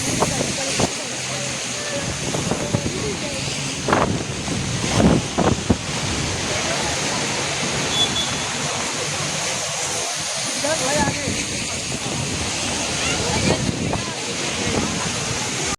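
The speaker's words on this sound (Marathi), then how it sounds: "एवढा पाऊस आणि एवढा हवा येतं ना मरीन ड्राईव्हला" Monsoon storm at Marine Drive in Mumbai: a roaring wash of strong wind, buffeting the microphone, blends with heavy rain and surf by the sea in a loud, constant rush, while someone talks over it.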